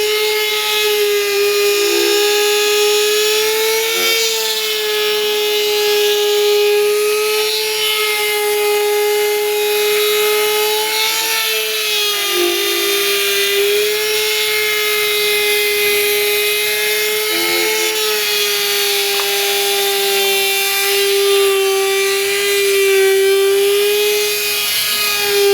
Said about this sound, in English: So we're gonna sand it all down first.